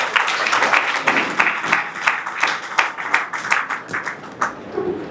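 An audience at an annual award ceremony in Nagpur applauds in a dense, steady round of clapping, with a few louder individual claps standing out, and no one speaking.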